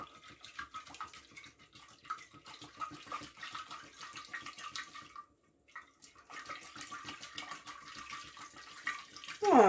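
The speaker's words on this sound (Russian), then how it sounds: "я сейчас вот так вот возьму, в баночку налью водички" Warm water streams into a 3-liter glass jar in a steady, moderately loud flow. It stops briefly about halfway, then resumes and keeps pouring.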